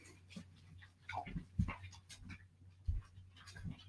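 Excited dogs panting and shuffling around indoors, with rapid breathy huffs, small whimpers and a couple of louder thumps of movement, fairly close with a low steady hum in the background.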